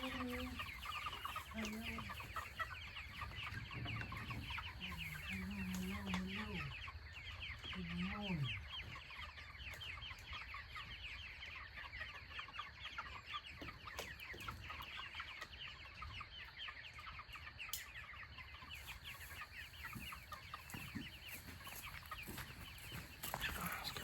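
Meat chickens cluck steadily on a wet morning, with a nearby rooster-like call early on, while a person greets the flock.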